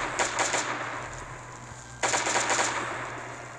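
Automatic gunfire in the zombie survival game Last Day on Earth: two quick bursts of rapid shots, loud and close, separated by a brief gap, over a steady low background hum.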